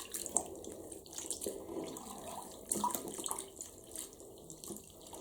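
Tap water running into a sink or bathtub while a plush toy is washed, a soft continuous splashing stream with small drips and sloshes, fairly quiet and close, with no voices.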